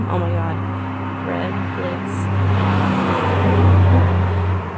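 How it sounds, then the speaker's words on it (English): Street traffic just outside a door rumbles on steadily with a low engine drone that swells briefly, heard under someone talking close by. "Sorry about the noise, guys. Like my street is literally right outside my door."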